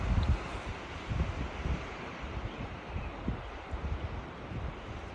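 Wind blowing through trees on a summer mountain trail on Utah's Mt. Nebo, a soft steady rushing with gentle gusts and low rumble, fairly faint and continuous.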